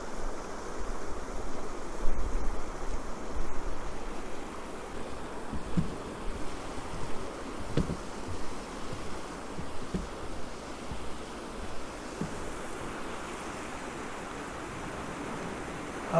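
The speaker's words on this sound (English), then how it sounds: "I always have to stop and watch the water flow." Water pours steadily over a small weir on the Huron River near Proud Lake, giving a continuous rushing wash of moderate loudness with no break and no voices.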